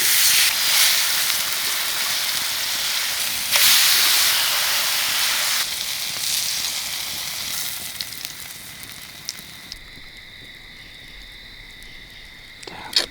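Steak sizzles in a skillet over a campfire at a bushcraft log cabin camp, a steady bright hiss that fades toward the end with a few small pops.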